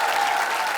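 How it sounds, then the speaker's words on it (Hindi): A studio audience at a television comedy show claps in a brief, dense burst of applause, steady and fairly loud for under a second. "जोरदार तालियां बजाओ"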